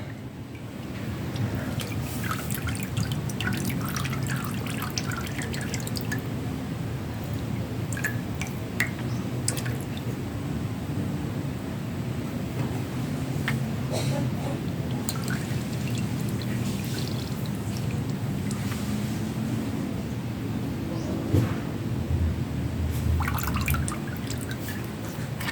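Brake fluid dripping from a leaking car hydrovac under the brake master cylinder, a long run of irregular wet drips and squishy liquid noises over steady background hum, with no voices.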